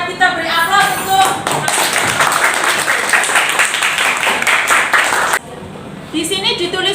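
An audience applauds after a classroom presentation, a loud, dense burst of clapping that holds for about four seconds, then drops off abruptly with a voice heard around it.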